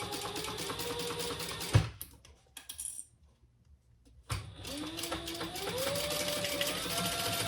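Sewing machine topstitching a crossbody bag, rapid rattling stitch bursts close up, stopping for a near-silent pause with small clicks, then running again with a rising motor whine.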